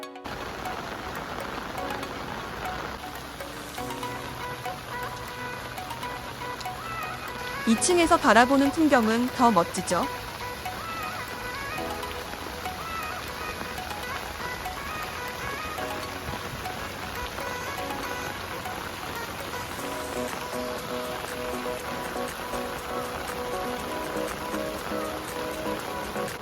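Steady rain patters throughout outside a garden-view cafe in Yangsan, Gyeongnam, a constant wash under a person speaking, with a brief louder burst in the middle.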